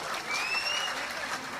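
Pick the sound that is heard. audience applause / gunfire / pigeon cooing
audience applause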